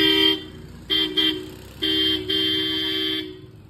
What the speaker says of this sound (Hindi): अरे हॉर्न से तो दिखा दे।